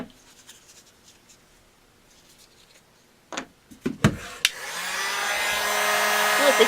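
A heat gun warms Thibra thermoplastic for cosplay, starting after a few sharp handling knocks and settling into a steady, rising blowing roar close by.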